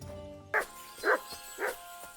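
Three sharp barks from a dog in the medieval role-playing game Kingdom Come: Deliverance 2, spaced evenly at close range over a quiet in-game background.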